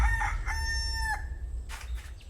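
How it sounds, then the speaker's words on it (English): A rooster crows outdoors during a rainy night stranded in the wild, a single loud cock-a-doodle-doo with a rising, held call over steady background rain and wind, followed by fainter bird sounds. "I really need to find that rooster."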